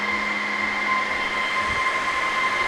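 A constant, loud drone of spinning rack server fans with steady tonal hum, unchanging and close, no voices.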